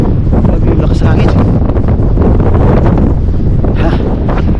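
Strong wind gusting beside a lake during a winter storm, roaring steadily and loudly across the microphone in a continuous rough buffeting with no letup, the water whipped up like sea surf.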